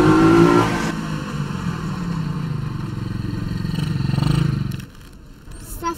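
A quad bike engine opens with a loud burst, then drones and revs up to a peak before dropping away, ending with a few short throttle blips; no one speaks.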